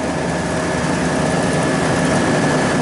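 Condenser fan motor running, a loud, steady whirring drone of turning blades and moving air that stays constant throughout.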